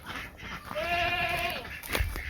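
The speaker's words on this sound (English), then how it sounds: "You can hear the goats, they're quite anxious." Anxious goats in a garden give a loud, wavering bleat at close range, followed by a briefer second call.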